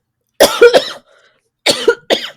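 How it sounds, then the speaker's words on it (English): Two short bursts of coughing from a young woman, each a quick double hack, separated by a brief quiet pause, close and clear with no talk around them. "I'm like trying to not cough, but I did"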